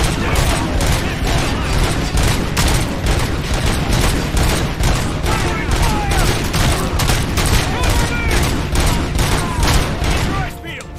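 Constant heavy gunfire in a RoboCop Rogue City firefight, dense overlapping shots and bursts rattling without pause for several seconds before easing off, with voices shouting underneath.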